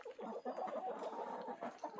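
Several chickens cluck and murmur continuously in a predator-proof pen built from an old greenhouse frame, the soft overlapping calls fairly close but quiet, with no talking.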